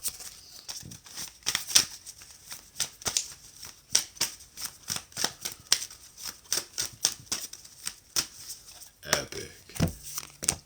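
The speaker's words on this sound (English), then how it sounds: "We cut the deck. We clear it." Tarot card deck being shuffled and cut, a rapid run of crisp riffling card flicks and taps that keeps going throughout, fairly close and dry, with short pauses and a soft thump near the end.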